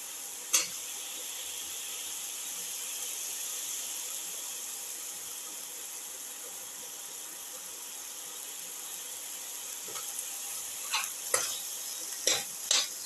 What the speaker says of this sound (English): Put in the potato pieces.